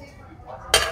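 A 3-litre triply steel pressure cooker is handled at a trade fair stall. It gives one short, bright metallic clank near the end after soft shuffling, with a voice faintly in the background.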